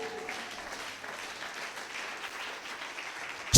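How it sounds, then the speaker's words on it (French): A church congregation claps to acclaim the Lord, a dense, steady round of applause from many hands that carries on evenly, fairly distant, and swells briefly at the very end. "Est-ce que quelqu'un peut acclamer le Seigneur?"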